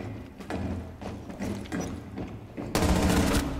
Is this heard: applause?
no